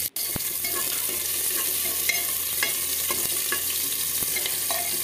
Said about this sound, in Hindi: ये हमारा जीरा हो गया और अब इसमें प्याज डाल दूँगी।